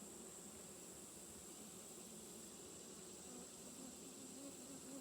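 Honey bees at a triple-deep hive fill the air with a dense, continuous buzzing drone, steady and close, with no voices over it.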